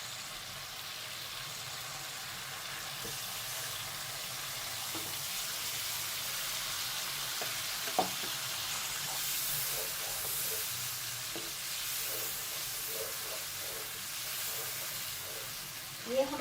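Fried beef koftas in spice masala cooking in a pan, a soft steady sizzle and hiss with occasional light stirring clinks and taps, fairly quiet and even throughout.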